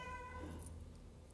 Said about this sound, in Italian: mi ha risposto il gatto